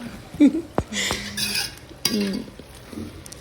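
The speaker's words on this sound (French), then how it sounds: "je suis en train de bien remuer, de très bien remuer encore, mais énergétiquement" A spoon vigorously stirs Guinean maguangni sauce in a cooking pot, giving irregular scraping and clinking metal knocks at close range over a low background hum.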